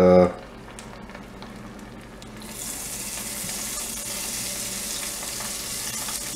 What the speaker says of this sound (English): I don't know if you've ever been frying fish before